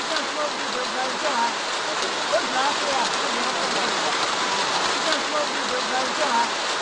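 Steady rain falls outdoors at an interview site in a community with incomplete concrete and makeshift wooden bridges, a dense even hiss close by with faint voices murmuring beneath it.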